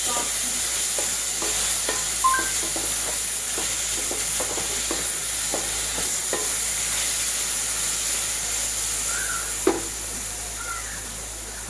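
Small chopped chicken pieces sautéed in a pan for a vermicelli and chicken breakfast, a constant loud close sizzle punctuated by regular scraping stirs and occasional spatula taps, without speech.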